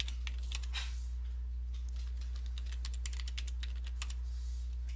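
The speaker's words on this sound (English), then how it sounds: "And type that in and click continue." Someone types a password on a computer keyboard in quick irregular bursts of key clicks, close and clear over a steady low hum.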